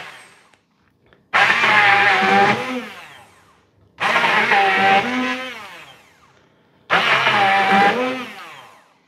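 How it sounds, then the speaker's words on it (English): A stick blender purees beans, whirring in three loud bursts of a few seconds each, with short pauses between them, close up. "Now I will take a stick blender and make a puree"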